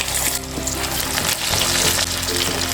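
Breadcrumb-coated prawn lollipops fry in hot oil over a medium flame, a dense, steady sizzle with bubbling crackle that stays loud and continuous throughout, with no talking.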